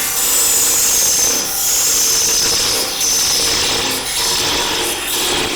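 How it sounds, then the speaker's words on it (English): A thin parting tool cuts into a wooden box blank spinning on a lathe, a continuous close, loud scraping rasp with a high whine that wavers slightly as the cut pressure changes. "Using the thin parting tool, you can't go in one hit because it will get too hot"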